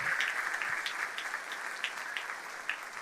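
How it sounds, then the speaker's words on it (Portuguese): Faint, steady applause from a church congregation during a sermon, a continuous patter of clapping heard from a distance. "Você pode aplaudir o Senhor?"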